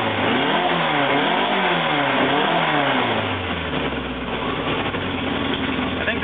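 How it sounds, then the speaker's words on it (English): A car engine revs hard with its mullet muffler opened up, the exhaust note rising and falling in several loud pulls before settling into a steadier, rougher drone. "When I open the mullet muffler up, it does change it a little bit."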